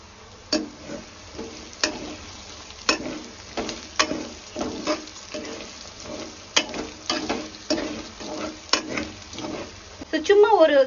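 Onion, ginger-garlic paste and green chillies frying in a pan for veg biryani, stirred with repeated sharp spoon scrapes and clacks in an irregular rhythm over a low sizzle.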